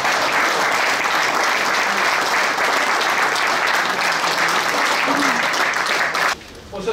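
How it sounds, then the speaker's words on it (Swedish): An audience at a book launch gives loud, sustained applause for about six seconds, a dense wash of clapping that cuts off abruptly near the end. "ger en varm applåd tycker jag till Börje Lantz"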